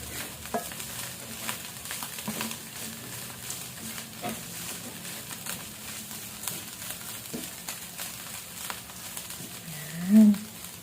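Pork sisig being stirred and frying in a pan, a steady low sizzle with soft scraping strokes, close and fairly quiet, ending in one louder clatter near the end.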